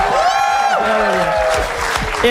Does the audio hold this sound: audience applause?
yes